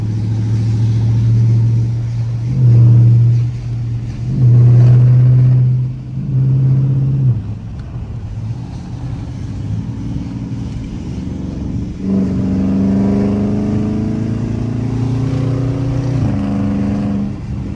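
A Dodge Charger RT engine in track mode, driven through a snowy blizzard, drones loudly and close with repeated swelling revs, then settles into a steadier, rising rumble near the end.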